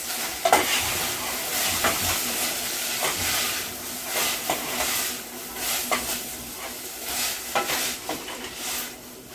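Beans sizzling in a hot pan for fish tacos, a continuous close frying hiss broken by repeated scraping stirs and clacks, with no voices.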